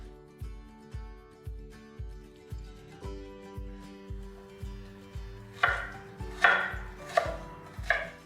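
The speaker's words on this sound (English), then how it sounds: "We're gonna cut it in small cubes." A knife chopping wild pink salmon into small cubes on a cutting board, a steady rhythm of about two firm thuds per second, close and clear, getting a bit sharper toward the end.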